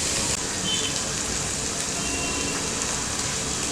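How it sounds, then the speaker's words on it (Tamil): A banana flower mixture seasoned with cumin powder and garam masala sizzles steadily in a pan, giving off a continuous crackling hiss like light rain. "இதை வந்து நல்லா மிக்ஸ் பண்ணி விடுங்க. கொஞ்ச நேரம் வதங்கட்டும்."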